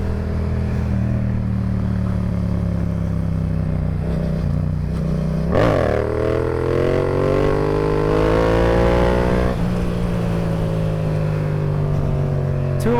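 A motorcycle engine roars loudly and close during wheelies, holding a steady high drone, then revving up hard with a rising pitch sweep midway before settling into a strained, climbing whine.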